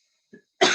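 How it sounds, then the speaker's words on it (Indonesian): A person coughing indoors: a faint short throat sound followed a moment later by a loud, close, harsh cough. "Iya pas batuk-batuk"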